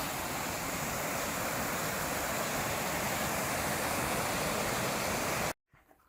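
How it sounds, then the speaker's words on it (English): A waterfall with a 300-meter drop in three steps, in misty East Africa, roars as a loud, steady wash of broadband noise close by, cutting off abruptly near the end to near silence. "We walked down to the beautiful waterfall, but it's very, very misty."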